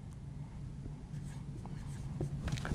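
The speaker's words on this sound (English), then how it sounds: "So we're just going to write that up here." A marker squeaks and scratches across a board in short, uneven strokes, close and faint, with no speech over it.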